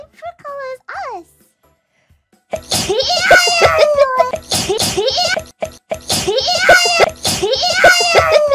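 Early on, a short, sharp dog sneeze sounds among small squeaky vocal noises, then a child chatters and giggles excitedly for several seconds.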